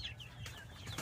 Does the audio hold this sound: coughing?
no